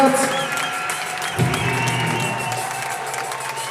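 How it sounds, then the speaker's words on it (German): Crowd applause and cheering for a quad rider passing by at a motorsport show, loud and sustained with a swell of clapping partway through. "So, fetten Applaus für den Aleš,"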